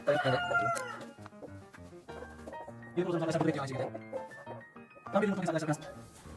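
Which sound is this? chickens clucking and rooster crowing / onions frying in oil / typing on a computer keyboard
chickens clucking and rooster crowing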